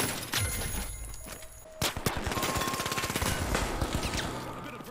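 Rapid automatic gunfire from The Finals video game, loud and close, with dense bursts of shots rattling almost continuously and a brief pause before firing resumes.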